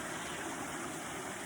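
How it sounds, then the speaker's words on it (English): A woodland stream near the Blue Ridge Parkway flows in a soft, continuous background wash, faint and even throughout, with no voices. "You can probably hear the water in the background."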